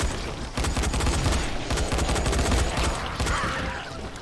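Rapid bursts of gunfire from a zombie-survival shooter, Dying Light, fill the scene at close range, with dense overlapping shots and sharp cracks running continuously, no voices.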